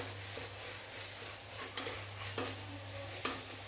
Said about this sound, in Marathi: हा संपूर्ण पास्ता मसाला मी मिक्स करून घेते ह्याच्यामध्ये आणि थोडंसं मिक्स करून घेऊया